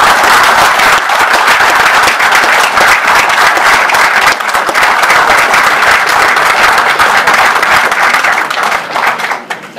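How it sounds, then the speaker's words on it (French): An audience at a closing speech at a Paris congress claps loudly and continuously, dense applause that holds strong before tapering slightly at the end. "je souhaite que l'on applaudisse"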